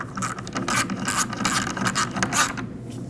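A mounting nut is run down onto a radiator support stud on a 2013-2019 Ford Escape, giving a quick series of rasping, ratcheting clicks up close for about three seconds, with no talking.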